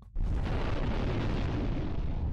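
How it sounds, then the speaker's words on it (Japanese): A video game explosion in the PSP title Machi: Unmei no Kousaten, where the city of Shibuya is destroyed, bursts in sharply and holds as a loud, continuous broadband roar with no talk over it. "ボカーン。 今回は爆発するんや。"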